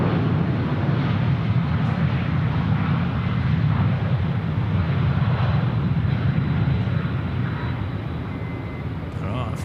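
A jet airliner comes in to land on runway 16 right at Sydney airport, a loud, steady, broad engine roar that fills the whole stretch, with a faint voice briefly audible underneath.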